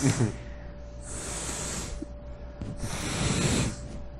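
Repeated airy sniffs and hissing breaths through the nose, close up, in bursts separated by brief pauses.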